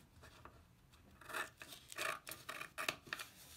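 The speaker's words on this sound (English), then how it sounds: "And now bring your scissors back out and see these ends, cut it off." Scissors snipping the ends off folded origami paper, a quick series of soft, close crisp cuts and rustles in a quiet room.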